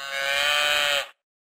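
A cow gives a single sustained moo, steady and fairly loud, lasting about a second before cutting off abruptly into silence.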